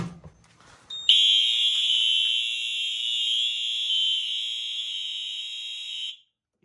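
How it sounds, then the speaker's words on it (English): A loud, steady high-pitched smoke detector alarm tone starts after a brief rustle and sounds continuously for about five seconds, then stops abruptly. "Detector is still activated. That activated immediately."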